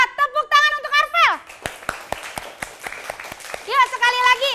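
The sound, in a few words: children applauding in classroom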